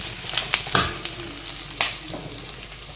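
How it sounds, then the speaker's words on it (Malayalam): Pork fry sizzling in a pan, a steady crackling hiss with sharp pops and occasional stirring scrapes, close and fairly loud with no talk. "ഫ്രൈൻ്റെ ആ സൗണ്ടൊക്കെ വരുന്നതാണ്"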